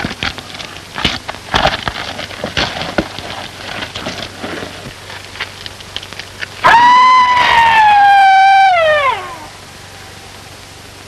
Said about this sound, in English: That was the cry of the Phantom Killer.